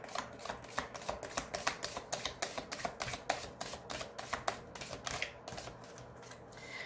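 Tarot cards being laid one over another on a table, a steady run of soft, crisp taps and slaps repeating quickly and close by, with no talking.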